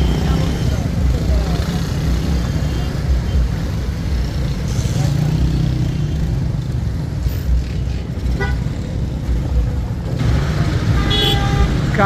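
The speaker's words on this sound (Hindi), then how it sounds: "कालाम बाज़ार में ट्रैफिक रवा दवा है" Busy road traffic in the Kalam bazaar of Swat: a constant rumble of cars and motorcycles with a few short horn toots, and voices talking nearby.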